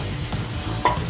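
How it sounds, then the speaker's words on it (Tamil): Ground tomato paste is added to onion, ginger and garlic frying in oil for chicken dum biryani, giving a continuous loud sizzle with soft stirring scrapes and a brief wet splat near the end. "அரைச்சி வச்சுருக்க தக்காளி ஆட் பண்ணிக்கலாம்."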